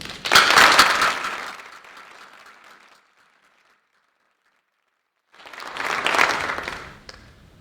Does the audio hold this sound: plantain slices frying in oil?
no